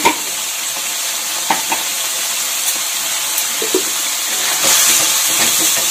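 Turmeric and Kashmiri chilli powder fry in oil for a dried loitka fish masala, making a loud, continuous sizzle with intermittent stirring scrapes and a hissier surge near the end.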